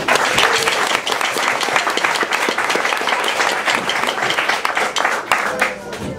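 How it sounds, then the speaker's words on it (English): A packed hall audience at a lodge barbecue event applauds the Wee Ones, a dense, sustained wash of many hands clapping steadily for several seconds, loud and close, with faint crowd murmur underneath. "So, round of applause for the Wee Ones."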